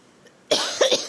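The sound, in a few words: cough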